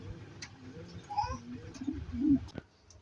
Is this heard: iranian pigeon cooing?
yes